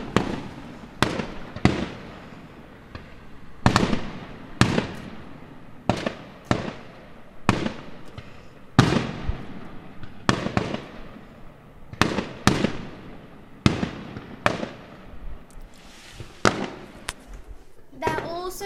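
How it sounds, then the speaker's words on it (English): Fireworks burst one after another on firework night, around twenty sharp explosive bangs at irregular intervals, some louder and nearer, each trailing off into a crackling decay. "I'm just going to show you fireworks"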